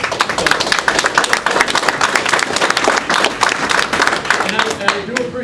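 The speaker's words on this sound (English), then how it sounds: "I appreciate the applause" Town hall audience applauding in a hall, a dense steady wash of many hands clapping close and loud throughout, with scattered voices mixed in.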